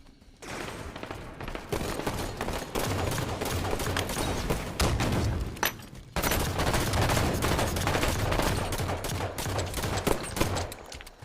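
Rapid sustained gunfire in Halo 5 hammers against an enemy's overshield, a dense continuous barrage with a brief break partway through.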